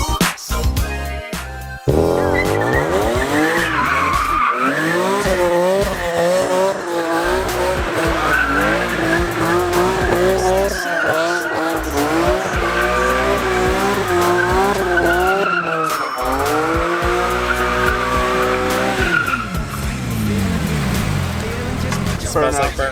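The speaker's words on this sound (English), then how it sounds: "Smells like burnt rubber. Burnouts. Donuts." A car doing burnouts and donuts, tires squealing loudly and continuously for about twenty seconds with a revving engine, while music plays underneath.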